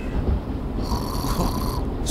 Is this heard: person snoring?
yes